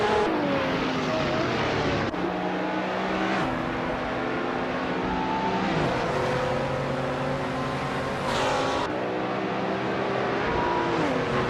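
A BMW Z4M Coupe G3 race car in a racing video game drones steadily, its engine note rising and dropping through gear shifts over a continuous loud roar.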